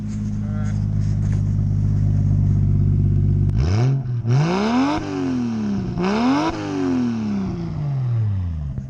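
A Toyota Supra MkIII with a 1JZ engine idles outdoors with a deep steady rumble, then revs hard several times, pitch sweeping up and dropping back, loud and close by.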